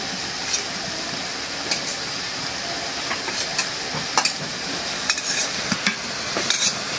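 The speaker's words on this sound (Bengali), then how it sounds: "এখন দিয়ে দেবো চিংড়ি মাছ।" Prawns frying in a pan in a village home kitchen, a steady sizzle throughout with scattered sharp crackles and pops, close and fairly loud, no voices.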